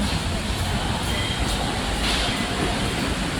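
MRT train at GMA station in Metro Manila, a loud continuous rumble and hiss of the train running along the platform, steady and close throughout with no clear talk.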